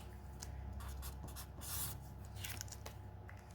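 Soft scratching of a pen writing on a paper money envelope, close and quiet over a steady low room hum, with light rubbing strokes and no talking.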